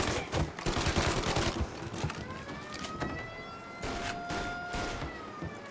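Rapid bursts of gunfire ring out in Mafia Definitive Edition, loud and continuous, with sirens wailing underneath and gunshots layered throughout.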